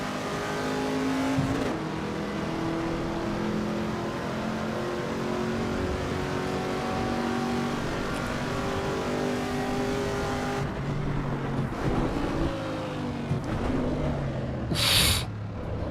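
A race car engine in Assetto Corsa EVO revs and climbs through gears with continuous loud whine, shifts and a brief higher-pitched squeal or rev near the end.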